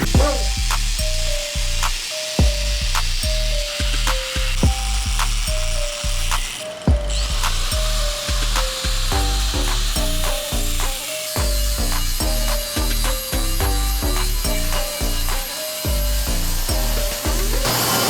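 Loud, steady grinding and rasping of a power tool cutting through a metal minitruck cab, with a rhythmic pulsing pattern and sharp clanks throughout, indoors.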